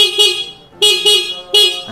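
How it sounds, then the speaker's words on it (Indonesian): A used motorcycle's horn is tested, giving four loud, close, bright honks in quick succession: two separate blasts, then a short double honk. "Untuk klakson,"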